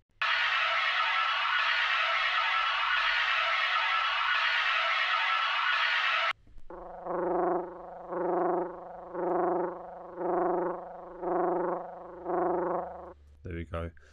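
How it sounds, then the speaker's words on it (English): Sustained atmospheric synth pad samples from the PRTCL Sounds Vol 2 pack: a dense, bright, steady pad for about six seconds, then a softer tonal pad swelling in five even, rhythmic pulses, with a short burst at the very end. "So there's just a snapshot of the pad sounds."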